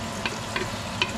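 Catfish heads fry in a pan with a continuous sizzle close by. Three short scraping stirs come at regular intervals.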